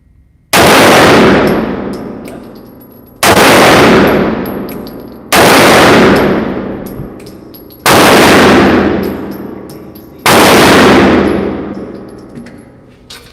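A Sig Sauer P365 XL pistol is fired slowly, five loud, sharp shots spaced a few seconds apart, each with a ringing decay trailing off before the next, close to the microphone.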